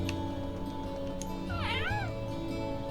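A cat meows once, a clear rising-and-falling call, in the video game Trails of Cold Steel, heard over steady game background music with no talking.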